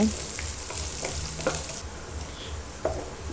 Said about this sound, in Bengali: এবার পেঁয়াজটা আমি হালকা ব্রাউন করে ভেজে নেব